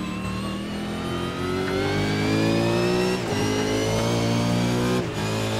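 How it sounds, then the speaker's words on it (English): A race car engine in a racing video game roars steadily at high revs while coming down the mountain at Bathurst, with harmonic pitch lines and brief dips around gear changes, loud and close throughout. "Having a listen to the car as he's coming down the mountain there"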